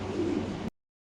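A pair of blue barless Mundian pigeons gives a brief soft coo, close and alone, cutting off abruptly after under a second.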